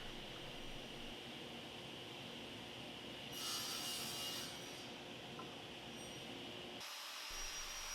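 A table saw fitted with a miter gauge stop cuts wooden rails to length. There is a steady rasping saw noise with a brighter burst partway through, and the sound drops off sharply near the end.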